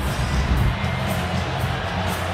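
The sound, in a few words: basketball arena crowd oohing at a replay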